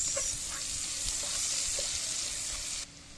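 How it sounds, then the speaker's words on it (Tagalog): Butter, garlic and onion frying in a pan for spaghetti, giving a steady, loud close sizzle with faint stirring scrapes throughout, dropping quieter right at the end. "Ayan na guys, lagyan natin ng butter. Lagyan natin yung bawang. Sibuyas."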